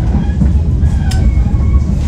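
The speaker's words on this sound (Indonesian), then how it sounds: "mengobati rindu naik kereta api hujan-hujanan" A business-class Ranggajati passenger train rolls along in the rain toward Cirebon with a steady low rumble and rattle from inside the carriage, loud and constant.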